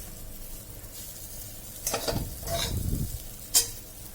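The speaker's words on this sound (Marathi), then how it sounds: "आता आपण तो एक पाच मिनटं आपण हे पुन्हा परतून घ्यायचं आहे" Ganpati prasad is stir-fried in a pan, with a low sizzle and a few distinct scraping stirs, including a longer rumbling sweep and a sharp knock near the end.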